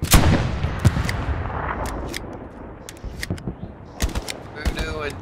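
Gunfire in the multiplayer shooter Hell Let Loose, sharp single shots and short bursts scattered irregularly, some close and loud, others more distant, with occasional voices over the battle.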